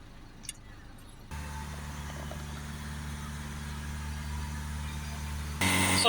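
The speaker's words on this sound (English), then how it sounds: "I'm just going to press that up against the accelerator and adjust the acceleration so I can hold the revs up" Diesel engine held at raised revs by a pedal depressor wedged against the accelerator, a steady close drone that starts after a quiet moment and climbs slightly louder near the end.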